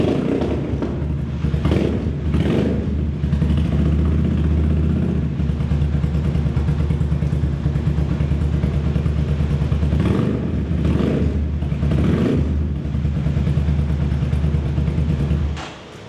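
Ducati 250cc motorcycle engine running steadily at a loud, close idle with a low rumbling drone, swelling in several brief revs around the middle and end, with no talking.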